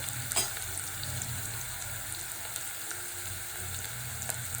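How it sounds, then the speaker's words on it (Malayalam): Potatoes and vegetables sauté in oil for a stew curry, a steady close frying sizzle at moderate level with occasional light clicks, no voices. "അപ്പം ഇതിൽ കിടന്ന് തന്നെ നമുക്ക് ഏകദേശം നല്ലപോലെ വഴണ്ട് ഈ എണ്ണയിൽ കിടന്നെല്ലാം ഏകദേശം അങ്ങ് വെന്ത് വരണം"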